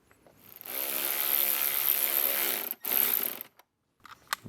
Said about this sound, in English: I would go ahead and put that screw in now so that way the pod is secured.